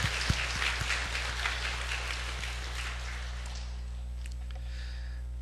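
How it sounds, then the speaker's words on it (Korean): A church congregation claps together for a few seconds, the applause thinning and fading out, heard over a low steady hum. "우리 박수로 하나님께 영광 돌리겠습니다"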